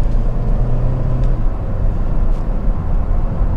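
A Honda Civic 1.8 i-VTEC EX five-door cruises along the road, its cabin filled with a low, steady rumble of engine and tyre noise, fairly quiet and unbroken, with no voices.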